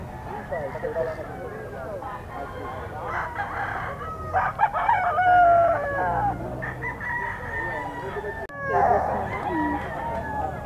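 A rooster crows several times in long, loud calls at a pet market, mixed with clucking from other fowl while someone talks over it.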